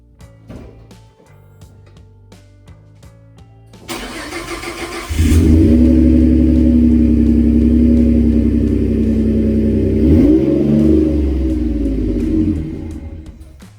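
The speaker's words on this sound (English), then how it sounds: "When you start it up, it purrs, but then it revs back down." A Ford F-150 fitted with a Flowmaster Super 44 muffler cranks over and starts, settling into a loud, deep rumbling idle. It revs once and drops back down, heard close with no talking.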